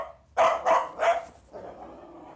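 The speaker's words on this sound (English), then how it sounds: "So he's barking his head off" A dog barks three times in quick succession, loud and close, then gives a lower, softer growling bark.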